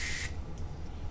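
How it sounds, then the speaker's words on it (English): A short, close burst of fine-mist room disinfectant spray hisses for about a quarter second, then stops, leaving quiet room tone. "I'm just gonna spray it"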